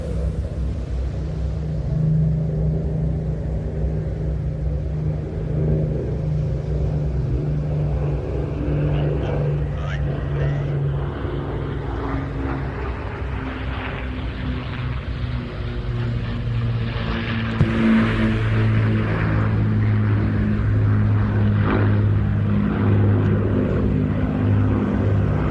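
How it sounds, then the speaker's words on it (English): Four Merlin engines and one Griffon engine of the Battle of Britain Memorial Flight aircraft at an air show produce a continuous deep propeller drone that swells and shifts in pitch as the formation passes, loud and unbroken throughout. "Let's listen to the sounds of 4 Merlins and 1 Griffon engine from the Battle of Britain Memorial Flight."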